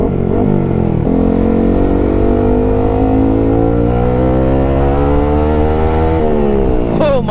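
A loud, close Yamaha R15 V3 motorcycle with modified handlebar, footrests and exhaust revs hard, climbing in pitch as it accelerates, then drops and revs up again near the end.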